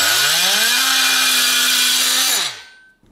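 An oscillating multi-tool cutting away tack welds on metal buzzes loudly and steadily up close, its pitch climbing briefly before holding a harsh, even whine, then winding down to silence.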